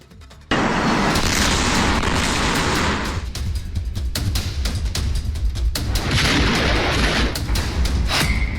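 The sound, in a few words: illegal firecracker factory explosion in Harda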